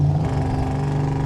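A 1987 GMC Sierra Classic with its original 350 engine revs up steadily as the transmission kicks down, a loud, continuous droning roar heard from inside the cab with no talk.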